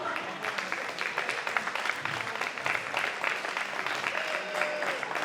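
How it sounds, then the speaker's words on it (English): A crowd at a wrestling show claps steadily in applause for a wrestler, a continuous patter of many hands at moderate distance, with no voices standing out. "you give him a round of applause, come on"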